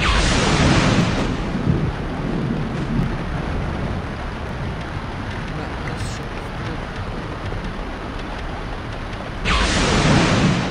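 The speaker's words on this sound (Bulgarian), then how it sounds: "Ох, тази буря много ме дразни." A thunderstorm with heavy rain in the strategy game Empire Earth II, a loud, steady rushing roar with swells at the start and end while someone talks briefly over it.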